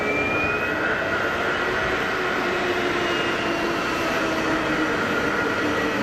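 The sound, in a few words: Airbus A320neo jet engine at Geneva Airport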